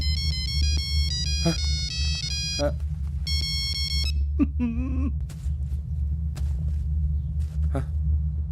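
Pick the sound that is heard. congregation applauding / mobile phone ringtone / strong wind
mobile phone ringtone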